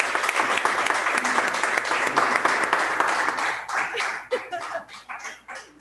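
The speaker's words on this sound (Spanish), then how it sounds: "yo quisiera pedir un aplauso a Dios por la vida de los líderes, de Simón y Daniela" Church congregation applauding, a dense burst of clapping that fills the first few seconds, then thins into scattered, separate claps as it dies away.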